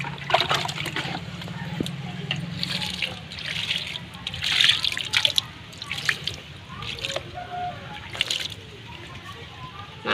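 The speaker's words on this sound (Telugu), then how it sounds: "కొద్ది కొద్దిగా వాటర్ వేసేస్తాను." Water is poured little by little onto newly planted mango saplings in a container, making sloshing, trickling and dripping sounds in uneven bursts up close, with a low background hum.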